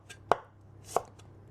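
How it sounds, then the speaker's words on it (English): Two crisp knife strikes slice a carrot into thin pieces on a cutting board, evenly spaced about half a second apart, close and clear against a quiet kitchen background. "And then lay it down and slice"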